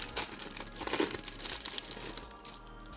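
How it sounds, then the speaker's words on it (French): Yu-Gi-Oh! promo card packs being torn open, the foil wrapper crinkling and crackling close by in busy bursts that ease off toward the end, with no talk. "On va ouvrir les cartes promo rapidement."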